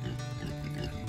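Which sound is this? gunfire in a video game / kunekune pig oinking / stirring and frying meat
kunekune pig oinking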